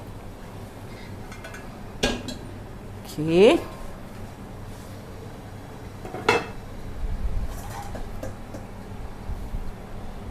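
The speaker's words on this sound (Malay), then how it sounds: "Saya akan turunkan periuk lagi satu ni." Cooking pot being set down and handled in a home kitchen while making chicken ungkep, with a few clinks and scrapes of metal cookware around the 2, 3.5 and 6 second marks as someone talks.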